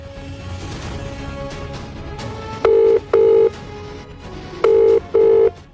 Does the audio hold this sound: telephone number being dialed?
yes